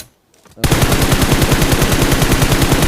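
Rapid automatic gunfire from PUBG Mobile on the Livik map bursts in after a brief near-silence, a loud, close, steady stream of evenly spaced shots that continues unbroken to the end with no talking.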